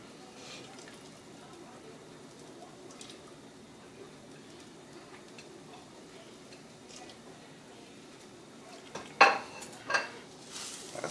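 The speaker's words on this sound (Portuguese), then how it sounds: "Sempre mexendo, dando uma mexidinha para evitar que ele grude no fundo, porque ele vai começar a derreter" A pot of macaroni with melting Gouda and other cheeses being stirred steadily, soft scraping and swishing at low level, with a few sharper utensil knocks against the pot near the end.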